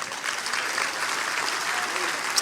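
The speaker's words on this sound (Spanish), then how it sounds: "Un aplauso a Cristo" Congregation applauding during a church sermon, a continuous bed of clapping throughout the short span, with faint voices mixed in.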